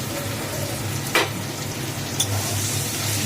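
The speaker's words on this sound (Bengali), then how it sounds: "তেজপাতা ফোড়ন দিয়ে এবার পেঁয়াজটা দেবে।" Close, steady sizzling of onions frying in a pan with bay leaf, with two brief scraping stirs and no talking.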